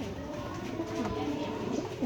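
Pigeons coo in low, throaty repeated phrases with a soft rolling rhythm, close by against a steady background hum, with no talking.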